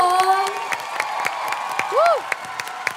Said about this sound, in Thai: ขอเสียงปรบมือดังๆให้กับโอเลี้ยงอีกครั้งนึงครับ